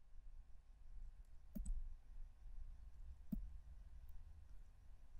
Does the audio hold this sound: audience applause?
no